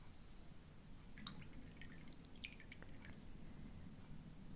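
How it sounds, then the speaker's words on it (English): Water drips and splashes softly as the rinse pot is changed during a watercolour painting session, faint clinks and trickles scattered through a quiet room with no talking. "I'm going to change my water, get my fresh pot of water here."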